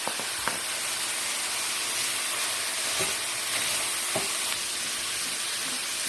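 Minced meat with peppers and onions sizzles and hisses steadily in a hot pan, broken by a few sharp scraping stirs.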